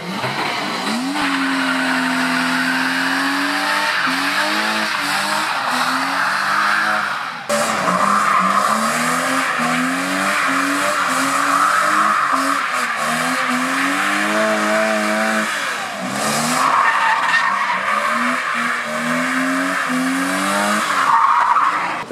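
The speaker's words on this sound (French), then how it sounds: "La 36 qui drift." A BMW E36 drifts at a nighttime car meet in Paris, its engine revving hard in rising and falling waves while the tires skid and squeal almost without pause for about twenty seconds. The sound is loud and close.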